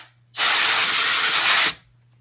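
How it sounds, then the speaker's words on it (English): A can of compressed air blasts into laptop vents in one loud, steady hiss lasting about a second and a half, close to the listener, with sharp starts and stops and quiet on either side. "I'm just going to spray those vents with canned air"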